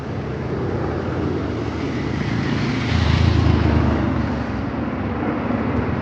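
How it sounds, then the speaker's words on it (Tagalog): A jet aircraft passes overhead in Dubai as a broad, steady roar that swells slightly midway, heard outdoors over continuous traffic-like rumble with no talking. "At ayun, meron pong jet sa taas."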